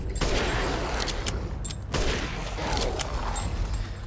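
Sniper rifle gunshots in the video game Resident Evil Village, sharp loud cracks standing out over dense, continuous combat noise, with at least two distinct shots.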